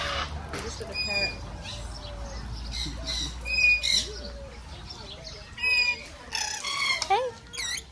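Parrots squawking at a parrot park in the Bay of Islands, harsh repeated calls and chirps in bursts, close by, with people talking among them.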